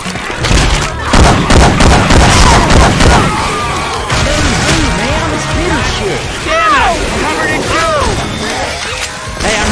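Heavy, rapid weapon gunfire from Left 4 Dead 2, modded with Syphon Filter gun sound effects. Loud overlapping shots and blasts rattle through the clip, with game character voices calling out over the din.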